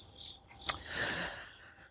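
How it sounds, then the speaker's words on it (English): Crickets chirp in a quiet backyard, a soft trilling that swells and fades over about two seconds, broken by one sharp click near the start. "there's crickets back here too, in the backyard"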